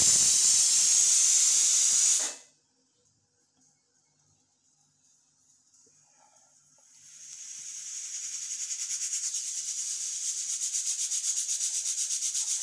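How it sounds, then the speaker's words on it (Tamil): Paper rubs across a kitchen countertop in a bright, hissing swish that stops abruptly, then after a quiet gap returns as a softer, steadier wiping rasp. "பேப்பரை எடுத்துகிட்டு வரேன், பேப்பரை வச்சு க்ளீன் பண்ணணும்"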